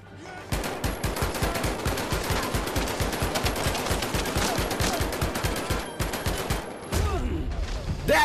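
Rapid automatic gunfire in the VR shooter Medal of Honor VR, a loud, sustained burst of evenly spaced shots lasting several seconds, briefly pausing before firing resumes.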